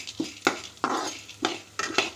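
Sago pearls fry in hot oil in a pan, heard as close scraping and stirring strokes against the pan with a light sizzle between them, several strokes over a couple of seconds.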